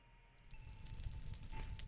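Minecraft Decked Out 2 dungeon effect for blocking Clank in the video game: a low, murky rumble with faint rattling texture that swells gently over two seconds, fairly quiet.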